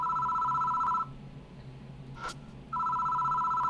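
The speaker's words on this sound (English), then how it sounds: "Doesn't seem to want to stop ringing, so I reach for the phone." A telephone rings in a horror video game, a close electronic trill in two long bursts separated by a quiet gap.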